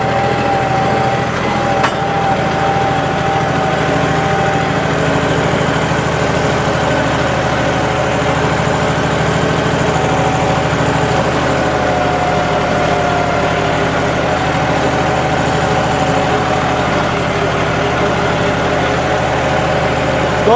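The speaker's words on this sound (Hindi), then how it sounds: "दोस्तों ट्रैक्टर जो आरपीएम ड्रॉप कर रहा है ना, मात्र 100 आरपीएम ड्रॉप करके चल रहा है।" A John Deere 5210 4WD tractor engine runs steadily in first gear under load at around 1500 rpm, a loud continuous diesel drone with a constant hum and no pauses.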